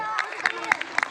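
At an Islamic religious lecture, children and audience clap briefly: a few scattered, close claps over a murmur of voices and crowd noise.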